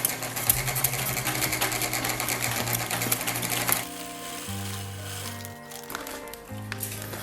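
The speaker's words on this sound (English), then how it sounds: "Your sewing machine might groan a little bit on this junction point because it's pretty thick." A sewing machine stitches through a thick seam where layers of feed bag meet, a steady buzzing whir that deepens and strains as the needle works through the bulky junction, with pitch shifts partway through.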